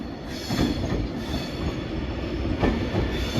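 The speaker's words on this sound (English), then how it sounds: "passing through now for Avanti West Coast is going to be a diverted service from Preston to Milton Keynes" An Avanti West Coast train on a diverted service from Preston to Milton Keynes passes close by, a loud continuous rumble of wheels on rail with rhythmic clatter and faint squeal throughout.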